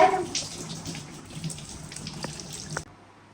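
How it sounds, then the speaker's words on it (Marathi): Running water splashes steadily as a rubber slipper is rinsed under a tap, with a few small knocks near the end before the flow cuts off. "चप्पल भेटला मी धुवून आणतो हा"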